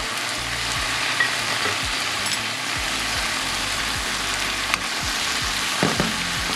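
Onions frying in a hot pan for kimchi jjigae with canned tuna, a steady close sizzle with occasional stirring scrapes, no talking.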